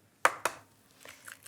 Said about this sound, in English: In a bowl, we'll crack a few eggs.